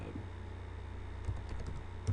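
Rapid keystrokes on a computer keyboard during a remote assistance setup, a short burst of clicky taps close to the mic over a steady low hum.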